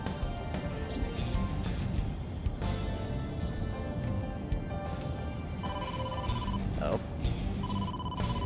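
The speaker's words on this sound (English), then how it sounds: "incoming call from the boss" A cell phone rings with an incoming call in the detective game AI: The Somnium Files, a repeating electronic ring over a steady bed of game music and ambience, with no speech over it.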